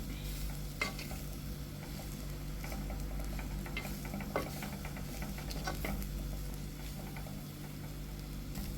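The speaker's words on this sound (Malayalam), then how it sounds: "ഇതെല്ലാം കൂടെ ഒന്ന് ഇളക്കി കൊടുത്തിട്ട് ഇളക്കി വെക്കാം" Stirring a banana blossom stir-fry (thoran) in a pan, with soft scraping and light sizzling ticks close by, fairly quiet and steady, no voices.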